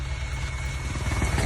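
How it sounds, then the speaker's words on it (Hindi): A Mi-8 helicopter passes low overhead close to a soldier, its engine and rotor making a loud, steady, rumbling drone that fills the whole clip with no voices. "जहां एक MI8 हेलीकॉप्टर में इतनी नीचे उड़ान भरी"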